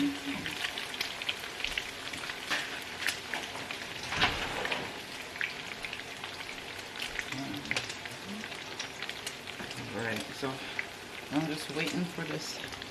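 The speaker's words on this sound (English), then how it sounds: "this bad boy to fry. So I'm making my omelet there." Crackling sizzle of a cheese omelet frying in a pan, a dense steady patter of pops close by with a voice talking quietly in the background.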